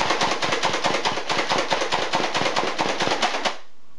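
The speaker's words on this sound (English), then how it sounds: "let's see how fast we can slam fire this raider" A Nerf Alpha Trooper CS-18 blaster slam-fires about twenty-five quick, even clacks over three and a half seconds, loud and close, then stops abruptly when it runs empty.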